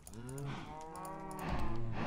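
Cows mooing in Minecraft, several overlapping low drawn-out moos filling the short stretch, one after another with a louder call near the end.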